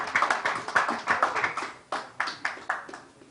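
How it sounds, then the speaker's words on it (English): Scattered applause from a small audience at a pickleball championship press conference, heard as distinct, rhythmic hand claps that rise and thin out over a few seconds. "ladies and gentlemen, big round of applause for Himanshu Devaskar."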